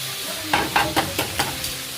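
A spoon scrapes and stirs cheesy pork caldereta in a pan, five evenly spaced strokes over a soft, steady sizzle, close and alone.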